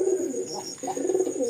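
A Dobaj pigeon, a single male, gives a low, soft cooing close by, rolling in short throaty phrases that continue steadily.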